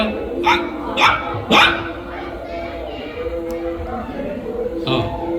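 A person imitates a puppy with three quick high yips, then a fourth after a pause, close to the listener.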